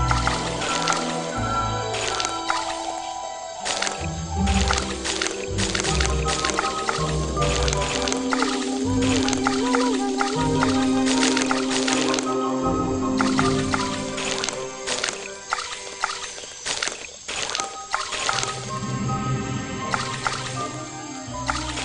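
Objects shifted through swamp water in the adventure game Detective Grimoire, giving wet squishes, sloshes and drips over a dense, busy game soundscape, continuous and close.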